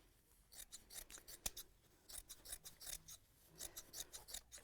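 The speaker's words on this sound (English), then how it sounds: "I'm just going to trim that back to the seam." Scissors snip and trim sewing fabric back to the seam, a run of close, crisp cutting strokes in quick irregular bursts with no talking.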